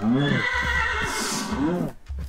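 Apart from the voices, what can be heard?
horse neighing in Minecraft video game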